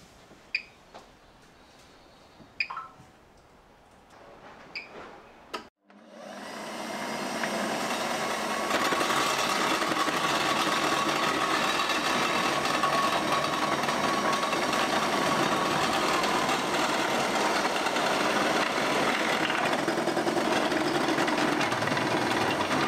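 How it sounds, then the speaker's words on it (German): Bosch Cookit food processor grating carrots, starting after a few faint clicks and knocks and then running as a steady loud motor whir with grinding texture for the rest of the clip, close up. "Da raspel ich lieber hier schnell meine Karotten und gut ist."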